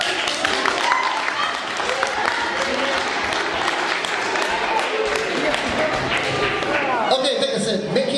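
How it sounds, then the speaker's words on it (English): An audience at a talk breaks into steady, lively applause that continues throughout, with some voices mixed in beneath the clapping. "Give him a round of applause."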